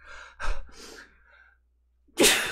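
A person gasps in a breath, then lets out a sharp, loud sneeze after a brief pause.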